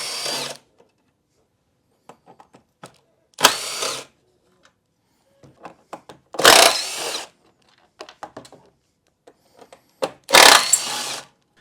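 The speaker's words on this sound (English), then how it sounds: "Now we can come in here with a T27 and pull these rack bolts off." A power driver with a T27 bit backs rack bolts out of a Polaris quad in short, loud whirring bursts, four separate runs with quiet pauses and small clicks between them.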